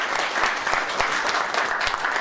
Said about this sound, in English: So would you give a warm round of applause for Mr.